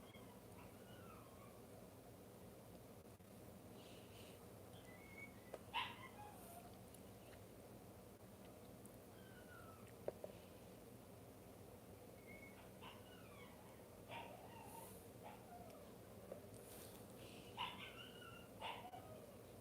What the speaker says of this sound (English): You hear whining, that's my dog.